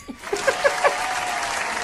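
An audience starts clapping, and a brief voice is heard as it begins. The applause quickly builds into a steady wash that continues to the end.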